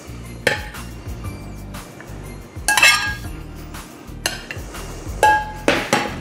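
Plain cooked noodles being served onto a plate, with several sharp clinks and clatters of utensils against dishes, close and fairly loud, interspersed with softer scraping and shuffling.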